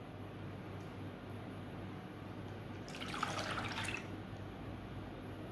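Evaporated milk pouring into a mixing bowl for a tres leches cake, a short liquid splash and trickle lasting about a second over a steady background hum.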